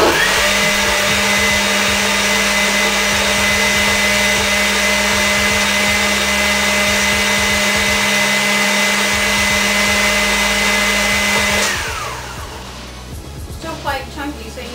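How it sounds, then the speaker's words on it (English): A kitchen blender runs loud and steady, blending a smoothie of rehydrated dried fruit, its motor whine holding for about twelve seconds before cutting off and leaving quieter clatter and handling noise. "you have to keep stopping the blender"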